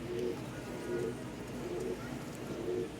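Giribaz pigeons coo close by in soft, low, rhythmic calls, about four coos in quick succession.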